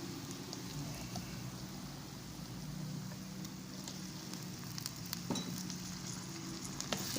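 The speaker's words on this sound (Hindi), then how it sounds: "कड़ी पत्ता हम इसके अंदर डाल देंगे। और कड़ी पत्ते के साथ ही जो है डालते साथ हम इसके अंदर शामिल करेंगे टमाटर।" Curry leaves and tomatoes fry in oil for Hyderabadi baghare baingan, a soft, continuous sizzle with light crackles and a few stirring clicks, fairly quiet throughout.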